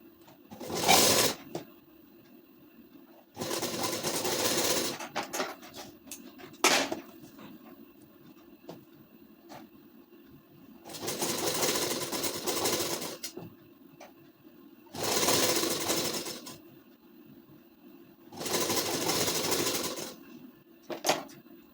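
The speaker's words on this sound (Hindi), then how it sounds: "एक लेस के नीचे सिलाई चलाई है, एक ऊपर भी सिलाई चलाएंगे।" A sewing machine stitches lace onto a ladies suit in several loud whirring bursts of a few seconds each, separated by quiet pauses and an occasional short clack.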